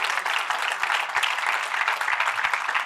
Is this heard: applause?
yes